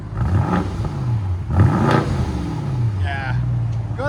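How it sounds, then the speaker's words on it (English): A BMW M550i with a fully straight-piped exhaust revs loudly with a raspy, throaty note, rising and falling, while people talk over it nearby. "M550i. That's how BMW should sound."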